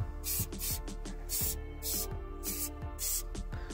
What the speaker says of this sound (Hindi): स्प्रे यहाँ पर कर देते हैं।